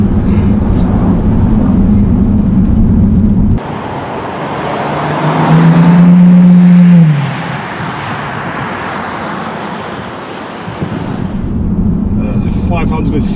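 The 6-litre W12 engine of a 2008 Bentley Continental GTC pulls hard, a loud low drone that swells and rises in pitch midway, then eases off again, with an abrupt cut near the start.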